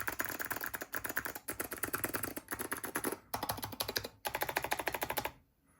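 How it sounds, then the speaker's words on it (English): Rapid typing on a Geon keyboard fitted with Taihao Alps ABS keycaps: close, crisp clacking keystrokes in fast runs, broken by a few brief pauses and ending in silence. "So here is what this Geon keyboard sounds like with your standard Taihao Alps ABS keycaps."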